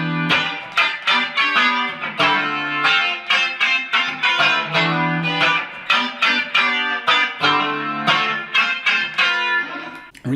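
Fender Elite Stratocaster electric guitar played clean, bright and cutting, with a quick series of plucked notes and chords that ring out alone and steady for about ten seconds.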